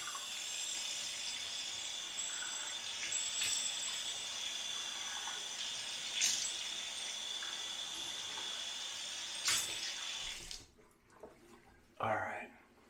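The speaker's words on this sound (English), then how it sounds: "Some cold water going." Cold water running from a bathroom tap during a shave, a steady faint rush with a few clicks and knocks of handling, easing near the end.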